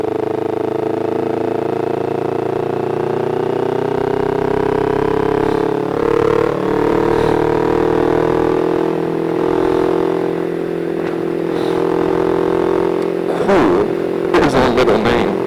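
Motorcycle ridden in snow and accelerating in sixth gear, a loud steady engine drone rising slowly in pitch, with rattling clatter and wind rumble near the end.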